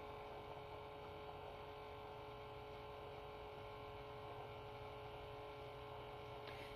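A HadinEEon milk frother heats and froths milk with a faint, steady electric hum that holds one even pitch without a break, and no voices are heard.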